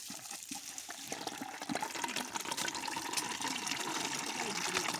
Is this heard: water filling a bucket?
yes